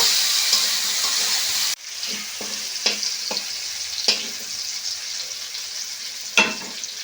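Potatoes sizzle in a pan with turmeric powder as they are stirred, a steady hiss broken by scraping strokes of the spoon, close and alone.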